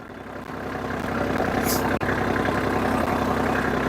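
A tractor engine runs steadily and loud, slowed down while dragging through hard material to cut a swale, with a continuous low rumble and no break in the drone.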